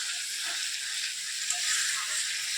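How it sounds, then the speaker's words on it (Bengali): Soybean curry with spices frying in a pan gives a steady, bright sizzle that runs evenly throughout, close and moderately loud, with no talking. "মশলা দিয়ে একটু ভাজাভাজি করে কষায় নিই"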